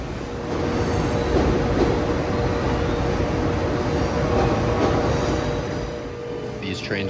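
A Long Island Rail Road diesel commuter train rumbles past at Long Island City during the morning rush, a loud continuous engine and rail roar holding steady throughout, close by.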